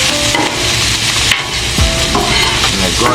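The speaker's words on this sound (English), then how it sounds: "Then you want to drop that onion. Mix all this in, because all this going in." Onion is stirred into chicken fried rice frying in a pan, producing a loud, continuous sizzle broken by clattering scrapes and knocks of the spatula.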